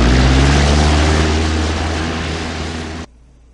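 Propeller airplane engine droning loud and steady close by, with a broad roar that fades slightly before cutting off abruptly near the end; no talk.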